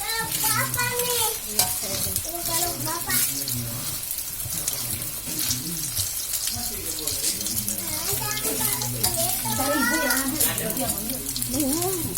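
Omelette with noodles frying in a pan, a steady close sizzle mixed with stirring and some running tap water, with a voice talking over it throughout.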